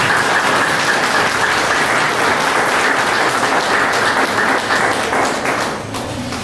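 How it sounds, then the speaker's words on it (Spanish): An audience claps loudly and steadily at a cultural event of the San José de Ocoa town council, after a call to applaud Christ. The clapping is dense and sustained throughout and eases slightly at the very end. "Denle un aplauso a Cristo,"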